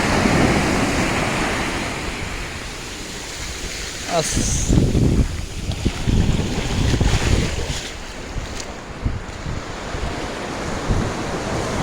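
Sea waves wash and surge steadily along a shoreline, with strong wind buffeting the microphone throughout, near and continuous, while voices faintly talk in the background.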